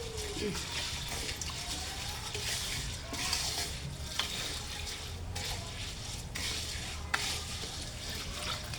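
Coconut milk being stirred into a cooking pot for a sticky rice dish, with a steady liquid swish and faint sizzle running throughout, light scraping taps of the spoon near and moderately loud, no talking.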